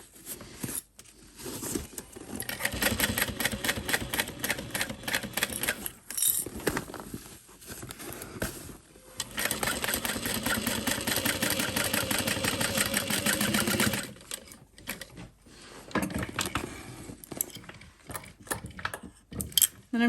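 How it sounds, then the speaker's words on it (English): A sewing machine runs lines of stitching on a fabric bag, its rapid mechanical clatter close and fairly loud in long stretches broken by brief pauses and small clicks, with no voices. "So I'm doing a couple lines of stitching and then double checking."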